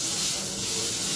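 Butter sizzling in a hot crepe pan on a medium-low flame, a loud, steady close-up hiss without a break.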